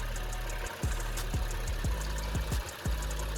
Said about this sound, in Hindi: हल्की सी मिसिंग है इंजन में, सिंगिंग और आवाज़ भी आ रही है।